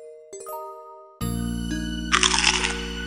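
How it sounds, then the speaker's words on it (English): A cartoon crunch sound effect follows light chiming tinkles, then a sudden loud burst with a bright crackling crunch near the end, all up close with no speech. "Did you hear that crunching sound?"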